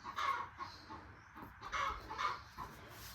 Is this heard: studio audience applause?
no